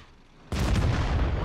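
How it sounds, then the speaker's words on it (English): T-54 tank gun firing in a video game, one abrupt heavy boom after a quiet moment, followed by a roaring, rumbling tail. "So I'm just gonna shoot this guy with 1 APCR, and then use the high explosive on the artillery."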